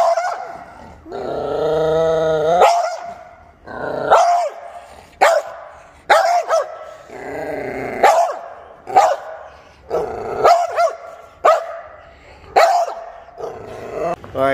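A dog resource guarding, growling low and then breaking into a series of loud, close barks with drawn-out growls between them, alone with no talk.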